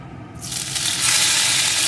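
Crushed ginger frying in hot oil with tempering spices such as cumin, a steady sizzle that rises and thickens after a quiet opening, close and continuous with no talking.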